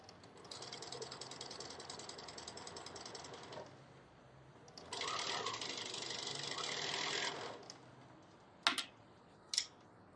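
A sewing machine runs in two sustained bursts of rapid, steady mechanical whirring, nearby, then a couple of sharp clicks near the end.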